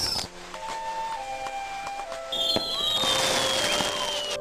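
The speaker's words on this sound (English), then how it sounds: "noisy firecrackers" Crackling bursts of firecrackers and fireworks pop continuously in an open outdoor space during Philippine New Year celebrations, with sharp bangs and sizzling whistles layered over a busy background.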